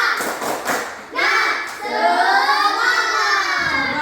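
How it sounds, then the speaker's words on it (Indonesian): Children at school clap in a rhythmic cheer routine, a few sharp claps at first giving way to young voices chanting together, fairly close and lively. "Tepuk semangat"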